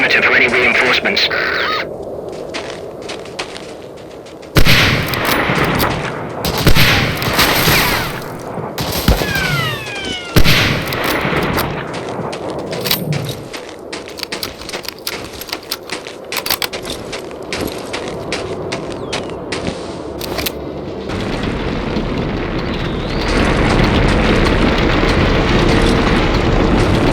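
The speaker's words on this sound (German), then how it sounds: "When I open fire, give me sniper cover." Gunfire in the WWII shooter Medal of Honor: Allied Assault during the Trondheim U-boat mission: bursts of shots and explosive blasts over a steady battle din, with radio-style voices speaking over parts of the action.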